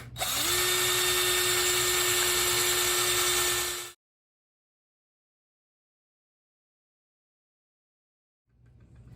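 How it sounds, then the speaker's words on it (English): An electric drill with an oversized bit drills out rivets on a toy Marx boxcar, whining loudly and steadily for about four seconds, then stops, leaving silence before faint noise returns at the end. "let's see if we can't drill these out"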